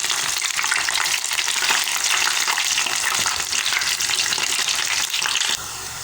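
Moringa flower fritters made from a honey-sweetened batter fry in hot oil until golden, giving a steady, loud, dense sizzle that runs on unbroken, drops slightly in level near the end and carries no talk.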